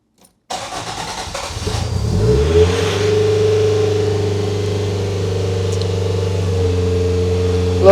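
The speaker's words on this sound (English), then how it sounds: "should we see if it actually starts too?" A Toyota AE86 engine cranks after a moment of silence, catches and revs up, then settles into a steady, somewhat high idle, loud and close throughout with no talking.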